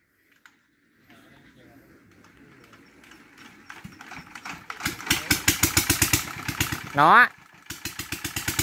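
A water pump engine beside a rice field with a large duck flock starts up, sputtering from quiet to a loud, rapid, steady chugging rhythm with a brief high whine, while someone speaks briefly.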